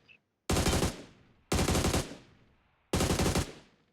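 An AUG rifle fired while crouched in PUBG Mobile, three loud sharp bursts of rapid automatic fire, each about half a second long and spaced about a second apart.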